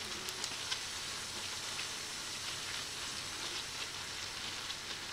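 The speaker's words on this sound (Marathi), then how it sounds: "भेंडी परतून घेते।" Okra (bhindi) sautés in a pan for bhindi bhaji, giving a soft, even, continuous hiss of frying that stays faint and unchanging throughout.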